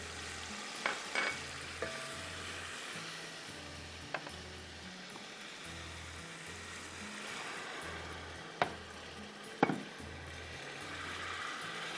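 Ground whole-spice masala with black peppercorns and black cardamom frying in a pot for vegetable pulao, a steady low sizzle with a few sharp clinks of a spoon against the pot, no talking.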